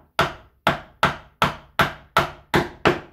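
Wood struck with a hammer or mallet to square the back end of a piece in a first-year carpentry exercise, eight sharp, evenly spaced blows close by with no talk.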